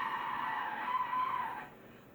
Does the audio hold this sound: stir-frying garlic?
no